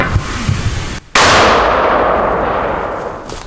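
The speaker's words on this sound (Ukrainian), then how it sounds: "Закидають міну калібром 120 міліметрів. Постріл!" A single loud, sharp blast from a 120 mm mortar firing close by, preceded by a brief rustle and trailing into a long fading rumble.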